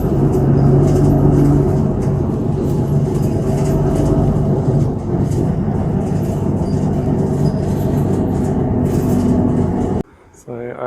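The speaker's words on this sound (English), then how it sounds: "now I'm on a bus." Interior of a moving bus in Japan, with a steady loud engine and road rumble and rattling cabin noise throughout, briefly cutting quieter near the end.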